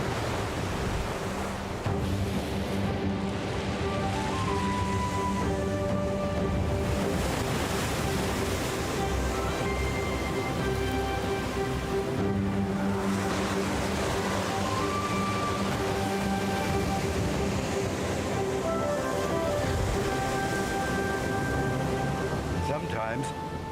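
Strong wind drives ocean waves in a steady, dense rush of surf and gusting noise that fills the whole stretch, close and loud, with tonal hums and a voice partly audible beneath it.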